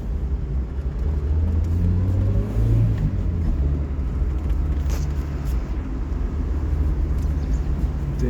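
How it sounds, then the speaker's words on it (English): A Daihatsu Copen roadster on a city drive, its engine humming steadily with a brief rise in revs early on, a constant close road-and-motor rumble with no voices. "Daihatsu Copen in the city drive."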